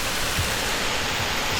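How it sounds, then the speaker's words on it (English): Water from a small man-made waterfall pours steadily beside a downtown street, a dense broadband wash that stays even and continuous throughout, fairly close, with no voices over it. "they've made a little waterfall here"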